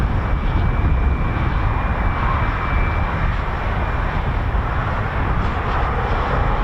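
Four-engined aircraft with CFM F108 engines taxiing at RAF Waddington, a loud continuous jet roar with a thin high whine, steady throughout with no talking.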